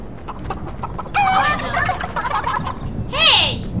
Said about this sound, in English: Found a chicken, I'm gonna pickaxe it.